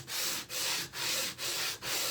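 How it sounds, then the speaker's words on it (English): Hand-sanding a painted old toolbox in five even back-and-forth strokes, each a loud, close, rough scratchy rub with brief pauses between. "Why are you sanding it?"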